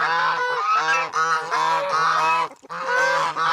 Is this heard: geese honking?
yes